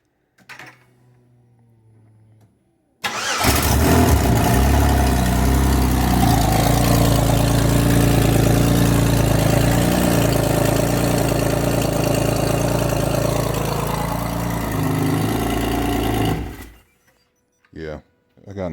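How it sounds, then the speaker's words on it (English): A car engine with a Nick cam and 1.65 rockers fires up abruptly after a brief quiet moment, then holds a loud, steady idle with the ticking puff of an exhaust leak for about thirteen seconds before shutting off, with a few faint knocks afterward. "Yeah, I got an exhaust leak right there."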